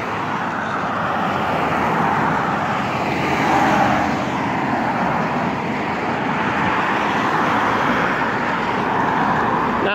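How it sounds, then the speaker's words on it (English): Road traffic streaming past near Old Farm Road by the UMass southwest area, a continuous broadband roar of passing vehicles at moderate distance, swelling slightly midway with no pauses. "just a lot of traffic passing through."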